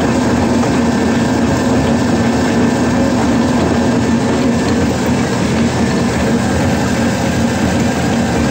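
A drill bores holes through metal to mount a winch on a Clark skidder, cutting through an interrupted hole with a steady, loud grinding whir that holds without a break.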